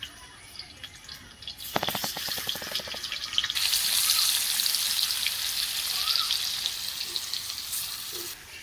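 Paneer pieces dropping into hot oil in a kadai, a village-style cooking setup, first some sharp clattering, then a steady, moderately loud sizzle that carries on to the end, with no talking.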